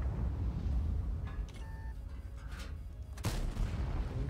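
Tank cannon fire and distant battle booms in a tank video game featuring the IS-2S, with rumbling low explosions, a sharp blast near the end, and no talk.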